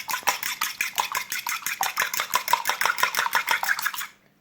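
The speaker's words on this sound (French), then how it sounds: "on bat bien notre œuf" A single egg is beaten briskly in a bowl for a one-egg cake, with fast, even strokes clicking against the bowl at a steady rhythm, close up, before stopping.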